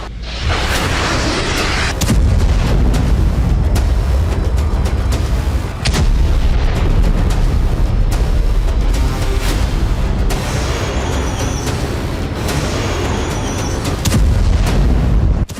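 Artillery fire and missile explosions in the Russia-Ukraine war crack and boom in heavy repeated blasts, loud and close, with sharper bangs breaking through a rumbling, continuous roar and no voices.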